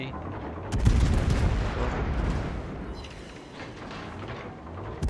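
A Des Moines cruiser in World of Warships fires a heavy salvo of AP shells, a loud booming blast followed by rumbling decay and further distant reports.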